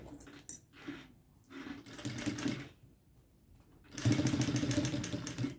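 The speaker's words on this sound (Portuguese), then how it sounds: "eu vou passar só uma costurinha aqui" A sewing machine stitches a fixing seam on the bellows trim of a small pink case, running in short bursts with pauses and then a louder steady run near the end.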